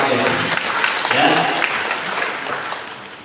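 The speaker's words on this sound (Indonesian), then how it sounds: "Tepuk tangan untuk alkabes" An audience at an Indonesian product demonstration claps, giving a dense, continuous patter of applause that stays loud throughout, with voices faintly mixed in.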